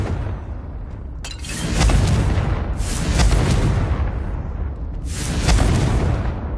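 A Confringo fire spell explodes in the game Hogwarts Legacy, with loud booming blasts rolling one after another in three heavy surges, each swelling with a broad roar before easing off.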